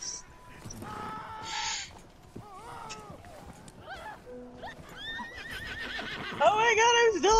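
A horse in a wagon-journey game lets out high, wavering whinnies, strongest near the end, with scattered hoof clip-clops and other animal calls under excited voices talking over them.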